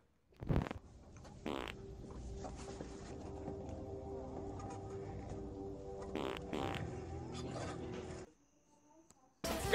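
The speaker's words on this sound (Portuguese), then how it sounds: "Então é por isso que eu não paro de peidar." Comic fart noises in a Portuguese-dubbed Batman vs Superman parody: a few short, loud bursts punctuate a low, steady rumbling background before it drops away near the end.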